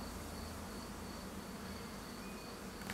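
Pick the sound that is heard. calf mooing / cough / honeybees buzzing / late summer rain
honeybees buzzing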